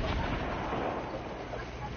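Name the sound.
grenade explosion in video game Fortnite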